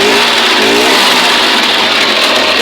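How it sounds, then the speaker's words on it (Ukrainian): A small carburetor engine running on petrol through a gas reducer taken from a stove, roaring loud and steady at high revs with a strained, choking tone and no talking. "Оце робить на бензині і тільки чуть газу він давиться."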